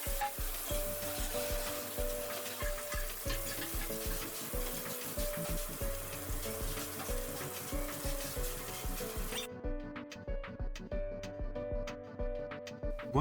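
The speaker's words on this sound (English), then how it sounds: "Add the chopped vegetables to the saucepan and stir." Chopped vegetables fry in butter and sunflower oil in a saucepan in a professional kitchen while being stirred: a continuous sizzle under loud rhythmic music that drops away partway through, leaving the music alone.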